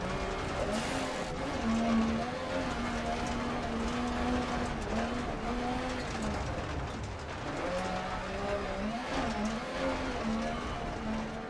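A rally car in a racing game howls with a sustained engine drone that wavers as it slides and shifts, continuous and close for the whole stretch.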